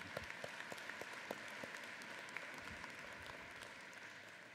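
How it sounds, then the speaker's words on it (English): A university convocation audience breaks into steady applause, a dense continuous patter of many hands clapping at moderate, even loudness without speech over it. "Most of us are comfortable with applause, I think"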